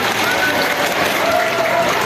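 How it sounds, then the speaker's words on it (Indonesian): Audience applause at a school student council candidate debate, a steady wash of clapping filling the whole short stretch at close range with no break. "Tepuk tangan dulu"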